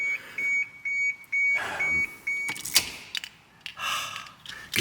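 Repeated short electronic warning beeps from a Mitsubishi Pajero GDI 3500 (Shogun), sounding in evenly spaced bursts at first, then mixed with door clunks and handling noises inside the vehicle.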